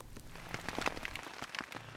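Heavy rain pelting a tent during a camping trip, a dense patter of drops striking the fabric with sharper individual splats scattered throughout, close and fairly loud, no voices.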